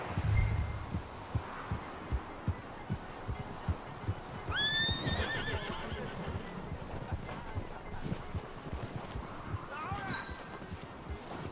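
A horse in Red Dead Redemption 2 gives a brief high whinny midway, heard over steady hoof-like thumps and game ambience, with someone talking throughout.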